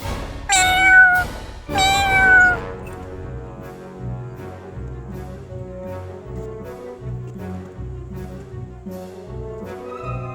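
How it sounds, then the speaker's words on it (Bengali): A cat gives two clear, close meows in quick succession near the start, each rising and falling in pitch, followed by a quiet, low background hum with no further calls. "বিড়াল,"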